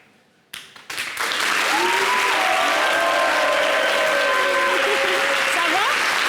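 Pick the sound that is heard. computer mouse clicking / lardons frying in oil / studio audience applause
studio audience applause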